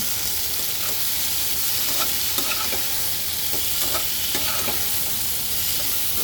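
Tengra fish curry with potatoes, water lily stems and salt is stirred in a pan, giving a steady close sizzle broken by soft scraping strokes of the spoon, with no talking.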